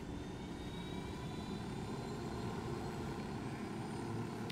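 In the video game Ghost Recon Wildlands, a helicopter in flight gives off a steady, droning engine and rotor roar. It holds at a constant level from the inside and is heard alone, without voices.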